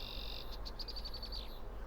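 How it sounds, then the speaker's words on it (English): Ambient wildlife from a Farming Simulator 22 critters sound mod, a steady high insect-like trill breaking into a quick series of chirping pulses, over a constant low hum. "You can hear the birds if I be quiet for a minute."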